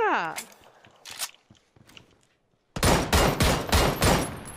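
Rapid bursts of gunfire from a shooter video game ring out loud and close in quick succession after a stretch of excited player chatter with a few faint shots and footsteps.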